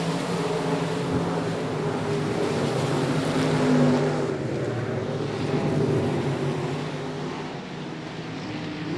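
A pack of race cars at I-37 Speedway running down the back stretch into turn 3, a loud sustained engine roar with overlapping motor tones that rises briefly mid-clip then eases, no talk.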